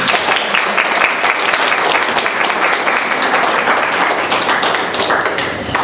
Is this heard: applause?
yes